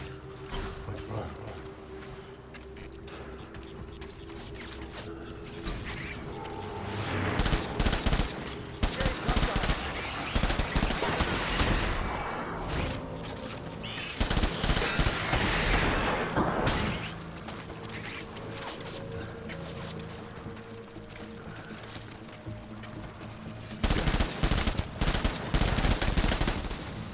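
Gunfire in the video game Death Stranding: bursts of rapid automatic shots come in clusters over a droning background, with intense volleys in the middle and near the end mixed with mechanical clatter and game sounds.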